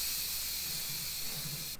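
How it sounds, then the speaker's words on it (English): Steam hisses steadily from an Instant Pot during quick pressure release after cooking arroz con gandules, a loud continuous spray that runs nearly two seconds and then cuts off abruptly. "We're gonna go ahead and quick release it, and we're gonna see what the final outcome is."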